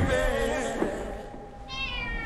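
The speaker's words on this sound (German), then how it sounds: "Gott, ich hasse diese Katze." A cat meows loudly and close in the German trailer for Argylle, giving a drawn-out call followed by a shorter, higher meow after a brief pause.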